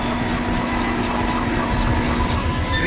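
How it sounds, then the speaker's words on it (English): A tram car rolls along its track in the Dead Space video game, a steady, dense rumble with a low hum throughout and faint clacking, loud and continuous with no pauses. "Replacing damaged tram car."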